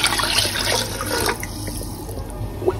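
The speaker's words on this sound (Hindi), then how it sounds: "1 लीटर पानी डालकर" A liter of water pours into a pressure cooker for chicken soup, a steady, close, splashing gush that gradually eases off, with a light clink near the end.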